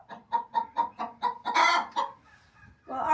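A mixed homestead poultry flock of chickens and guinea fowl calls close by, with a rhythmic series of clucks building into a louder burst of squawking, then brief quiet before more calling.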